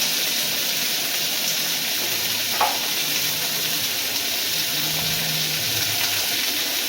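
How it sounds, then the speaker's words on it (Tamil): Cut green beans fry in a hot pan with a steady, close sizzle and crackle that holds at an even level throughout, with no talking. "இப்போ நம்ம கட் பண்ணி வச்சுருக்கிற பீன்ஸை சேர்த்துக்கலாம். நல்லா பொரியட்டும்."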